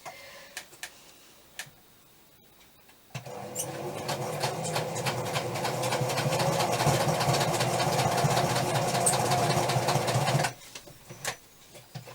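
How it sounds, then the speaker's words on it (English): A sewing machine runs in a rapid, rattling stitch for several seconds, framed by quieter moments with a few clicks before and after. "Oh, this sewing machine, seriously."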